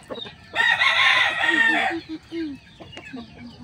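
A gamecock, a three-time-winning super gray at a cockfighting derby, lets out one loud, close crow lasting over a second, followed by someone talking.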